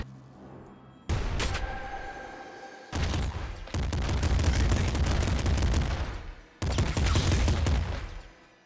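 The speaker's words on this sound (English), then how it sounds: "we can double machine gun it up" Dual machine guns fire in the top-down shooter Nuclear Throne: loud, dense bursts of rapid gunfire in several long volleys separated by brief gaps, with no talking.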